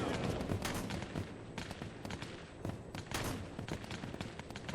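Pistols fire in rapid bursts during Plastic Battlegrounds VR play, dual-wielded, with dense overlapping shots at close range and steady clatter throughout, no voices.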